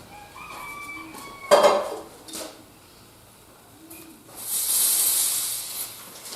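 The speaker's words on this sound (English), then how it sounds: "Letting out the steam very briefly keeps you from getting any water in your milk" A short burst of a home espresso machine's steam wand hissing, a bright, airy jet lasting about a second, after scattered clinks and a faint earlier whistle.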